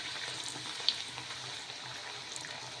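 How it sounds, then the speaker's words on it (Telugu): Puri dropped into well-heated oil sizzles with a soft, continuous frying hiss and faint crackles, fairly quiet and steady throughout with no talking. "ఇప్పుడు నూనె అయితే బాగా వేడెక్కినాక ఈ పూరీని అయితే ఇందులోకి వేసేసుకున్నాము."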